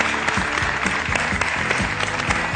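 A studio audience claps together in steady, dense applause that fills the short moment, close and lively, with no voices over it.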